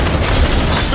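Squad gunfire in the video game Aliens: Dark Descent, a dense, loud, continuous burst of rapid automatic shots and blasts that fills the whole moment, with no clear break.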